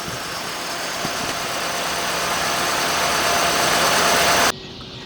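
A car engine idling steadily and loudly up close during a coil replacement, a constant rumbling hum that cuts off abruptly near the end as the engine is switched off.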